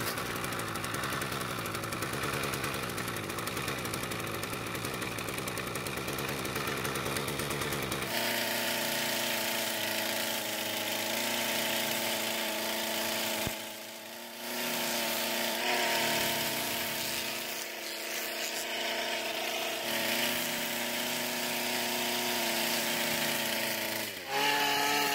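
A Ryobi string trimmer engine runs steadily and loudly throughout, a strong buzzing idle that shifts pitch midway and dips briefly a couple of times, with no talk.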